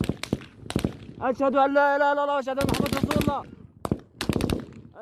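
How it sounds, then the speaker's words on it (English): Rapid bursts of gunfire from an attack on aid workers in Gaza crack in quick clusters, loud and close, while a voice speaks between and under the shots. "The sound of gunfire goes on for more than 5 minutes."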